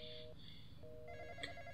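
A telephone rings in the Roblox horror game The Intruder, with a quiet, steady electronic ring repeating in short tones while a player talks over it.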